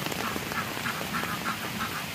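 Ducks resting in a rain-soaked home courtyard give a series of soft, evenly spaced quacks over a constant wash of falling rain, with no one talking.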